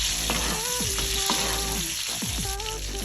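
Garlic butter is spooned over a striploin steak searing in a pan, a steady loud sizzle with scraping and clinking of the spoon against the pan throughout, no voices.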